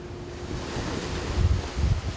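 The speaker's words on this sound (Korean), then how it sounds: "계속해서 집채만한 파도가 원석호를 덮쳐오고" Huge ocean waves crash against a fishing boat at sea during night flatfish fishing, a steady windy roar of surf with heavier low thumps of water striking the hull near the end.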